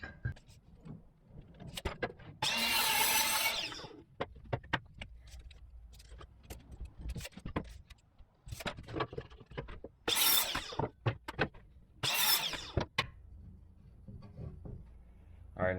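Wood pieces are cut to length for a beginner's wine rack: three separate loud, harsh cutting bursts, each lasting one to two seconds, with sharp clicks and knocks in between and no talking.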